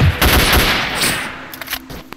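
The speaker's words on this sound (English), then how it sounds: "I can shoot out the lights!" Gunfire in STALKER: Shadow of Chernobyl shoots out lights, with a rapid string of loud close shots fading into scattered sharp cracks and small debris clatter.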